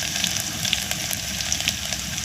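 Garlic sizzling in hot oil in a home kitchen, a steady close crackling hiss with small pops throughout, no voices.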